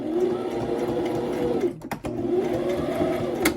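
A sewing machine stitching a paper over-the-page embellishment clip hums in a steady, loud, fast mechanical whir, with a brief stop and restart partway through.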